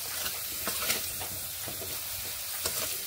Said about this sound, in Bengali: নুন ও হলুদ গুঁড়ো মিশিয়ে আলুগুলোকে ভেজে নিচ্ছি ভালোভাবে